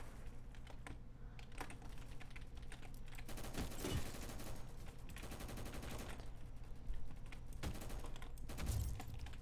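Bursts of rapid gunfire from the Roblox game Rolling Thunder blend with dense, fast computer keyboard clicking. The clatter runs nearly continuously at moderate loudness with brief louder thumps.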